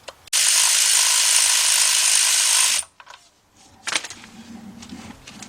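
A ratchet on a 4-inch extension removes the timing cover bolts of a Chrysler Sebring or Dodge Avenger engine in one loud, fast, continuous clicking run lasting a couple of seconds, then brief softer handling noises.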